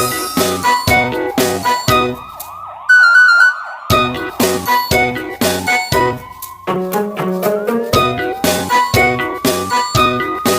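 An emergency vehicle siren blares loud and close, its repeating tones mixed with a rising and falling wail and a brief electronic jingle in the middle, with no voices.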